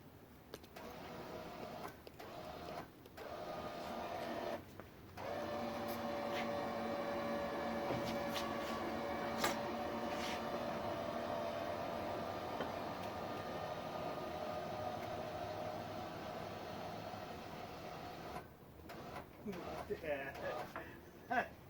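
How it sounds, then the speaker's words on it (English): An electric winch hauls a wooden roof truss up into place on a house build, with a steady motor whine and rumble running for about thirteen seconds before cutting out, framed by brief quieter gaps. "the winch, once it gets to a certain point, will take over and pull it up the rest of the way"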